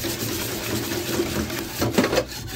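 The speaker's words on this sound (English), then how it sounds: "Now we're gonna give this another whisk." A mixture for Easter bun pudding is whisked, producing a steady, fast, rattling whir close by that continues throughout, growing slightly louder and choppier near the end.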